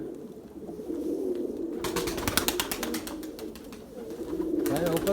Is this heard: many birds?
yes